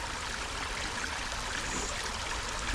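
Water rushing steadily over a rebuilt stream dam, a continuous broadband roar of flowing water, close and even throughout with no voices.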